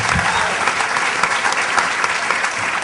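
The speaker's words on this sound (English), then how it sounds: "go ahead, you can applaud" Dense applause from a conference audience, steady close clapping throughout the short stretch.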